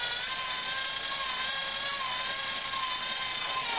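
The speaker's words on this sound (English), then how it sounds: "Get my little skill, battery powered" A small Skil battery-powered screwdriver drives a screw into wood, a close, steady high-pitched motor whine that holds with slight pitch wavers throughout.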